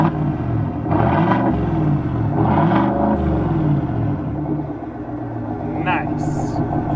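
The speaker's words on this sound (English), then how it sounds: "But boy, does this truck sound good." A 2022 Chevy Silverado ZR2 pickup's V8 engine revs up in a couple of deep, rising surges, rumbling loudly between pulls, with a brief bit of talk near the end.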